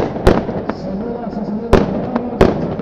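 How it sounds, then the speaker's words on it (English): Fireworks go off at a men's FIH Pro League field hockey match between Spain and Belgium, a few loud sharp bangs spaced irregularly over steady crowd noise, with voices talking throughout. "lovely idea, the fireworks, but I don't see any purple"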